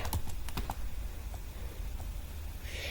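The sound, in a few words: typing code on a computer keyboard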